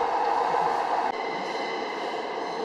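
Metro train moving out of a local station toward Newcastle Central, a steady loud rumble of carriage and wheel noise with a brief knock partway through, no talking.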